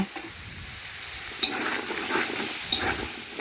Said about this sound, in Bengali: এখন নাড়াচাড়া করে 2 থেকে 3 মিনিট আমি কষে নেব।